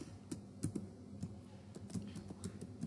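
Quiet, steady typing on a computer keyboard, soft irregular key clicks close by with no voices.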